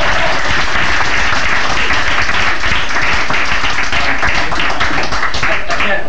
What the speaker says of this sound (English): I can't talk when you're clapping.